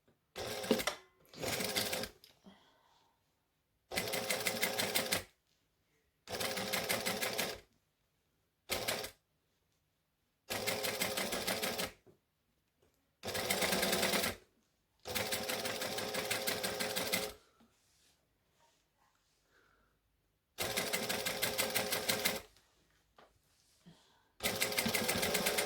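A sewing machine stitches the armhole of a dress in short close bursts of rapid mechanical clatter. Each burst lasts one to two seconds and is separated by quiet pauses.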